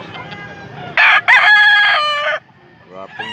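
A two-year-old rooster crows loudly and close up in one long drawn-out call, with quieter clucks and faint background talk before and after.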